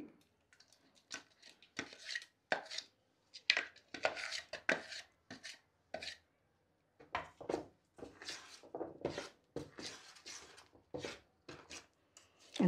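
Spinach puree being stirred and beaten into uttapam batter in a bowl, a series of close, irregular scraping and slapping strokes in bursts with short pauses between.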